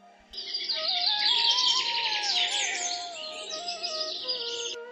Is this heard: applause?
no